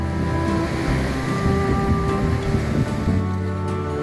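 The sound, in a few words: ocean waves at Pudak Beach, Blitar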